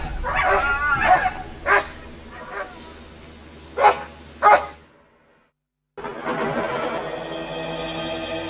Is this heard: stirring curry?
no